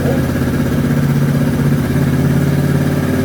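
Suzuki DR200SE farm-spec motorcycle engine running at a steady idle, a loud, close, even single-cylinder thrum with no revving.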